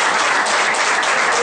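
Loud, dense applause from a press conference audience, many hands clapping continuously and close, filling the whole short moment without speech.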